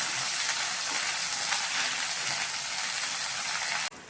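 Spinach fries in a hot pan in a home kitchen, giving a loud, dense, continuous sizzle with no talk that cuts off abruptly just before the end.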